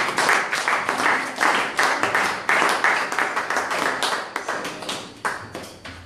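Applause and cheering ring out from a congregation at a thanksgiving church service, a dense wash of clapping with bursts of hand claps rising and falling, loud and close throughout.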